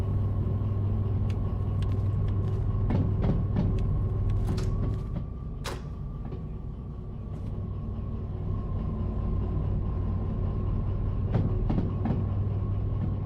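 A locomotive running in the train game Derail Valley, a steady low mechanical rumble and drone that stays continuous throughout, with faint rattling clicks and a brief higher squeal partway through.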